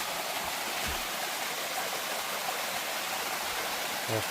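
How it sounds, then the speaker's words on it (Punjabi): Water spills down from above in a small waterfall, a soft, steady rushing wash heard outdoors at moderate distance, faint and continuous, with a brief low knock near the end. "ਉੱਪਰੋਂ ਝਰਨਾ ਜਿਹਾ ਆਉਂਦਾ ਪਾਣੀ ਦਾ ਸਾਡੇ"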